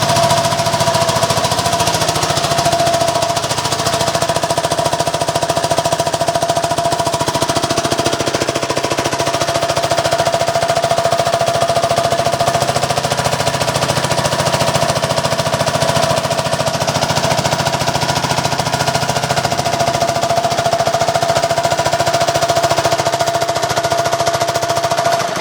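A 750 watt diesel generator loaded beyond its rating runs continuously with a harsh, rapid knocking clatter and a steady whine, loud and close for the whole stretch.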